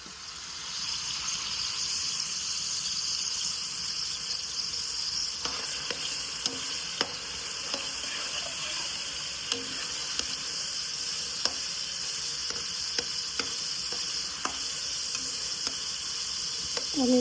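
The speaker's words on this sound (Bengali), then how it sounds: "আমি এটা একটু ফ্রাই করে নেব," Masala sizzles steadily in a pan for a home-style chicken roast, a continuous frying hiss with occasional sharp spatters and clicks of stirring, fairly close and with no talk.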